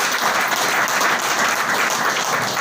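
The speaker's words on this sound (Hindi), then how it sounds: "उनके सम्मान में एक जबरदस्त ताली हो जाए" Loud, dense applause from an audience honouring a guru seated before them at a celebration, a steady wash of many hands clapping with no pauses and no speech.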